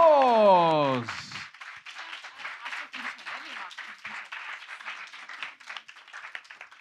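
Audience applause at a startup demo day as a team is called to the stage, a scattered ripple of clapping that follows a short burst of loud tonal sound and continues at moderate level.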